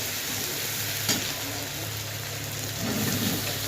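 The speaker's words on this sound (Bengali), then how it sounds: "হচ্ছে গুঁড়ো লঙ্কা, দেখুন দিয়ে ভালো করে নাড়াচাড়া করে নিচ্ছে" Chili powder stirred while frying in a pan, a dense continuous sizzle like rain with one sharp tap early on and a low hum underneath, no talking.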